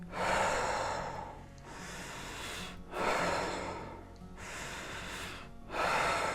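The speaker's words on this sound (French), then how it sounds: "On va faire quelques respirations pour le calmer." Deep, slow breaths taken during a blood-oxygen check with a connected sleep-apnea monitor, three long airy inhale-exhale cycles close to the mic, steady and unhurried with no talking.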